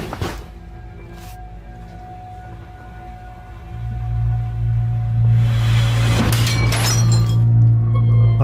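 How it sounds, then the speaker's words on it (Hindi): A wardrobe mirror in an abandoned house bursts outward with a sudden bang, glass shattering and shards clinking loudly after a low rumble builds. "अचानक अलमारी पर लगा आईना एक धमाके के साथ बाहर की तरफ फट जाता है"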